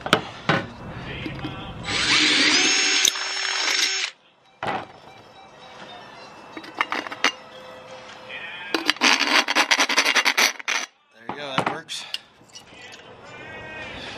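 A power drill bores through an aluminum beer can in loud bursts of whining motor noise, separated by quieter handling clatter and short pauses, with some faint voice sounds between the runs.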